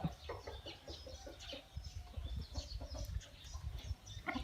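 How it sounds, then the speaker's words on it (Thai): Native Burmese fighting chickens in a coop cluck and murmur softly in a busy, continuous chatter, faint and close, with scattered higher calls among the flock. "สุ่มไก่บ้านๆนะครับ"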